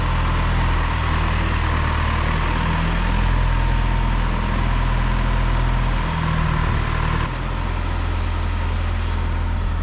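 A John Deere tractor engine idles steadily at close range, a loud low rumble that holds constant for about seven seconds before dropping slightly in level near the end, with no voices.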